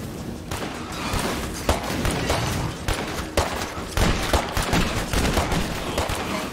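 Repeated gunfire and explosive bursts from a dark horror-adventure video game, dense and loud throughout with sharp overlapping blasts and thuds.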